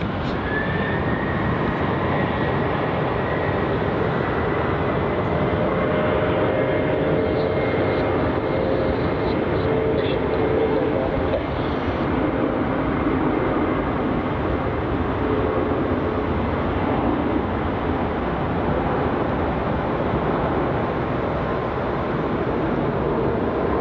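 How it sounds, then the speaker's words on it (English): A Qantas passenger jet takes off from runway 34 at Melbourne Airport in rain, a loud continuous engine roar with a rushing broadband rumble that stays steady throughout. "Departing now off runway 34, we have Qantas flight QF 1512 heading off to Canberra"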